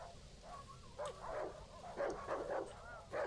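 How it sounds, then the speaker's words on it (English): Several dogs barking at the barn ruins in the video game Darkwood, a series of moderate, slightly distant barks and yips in irregular bursts over a quiet ambient background. "Sounds like there's some dogs. A lot of dogs, actually."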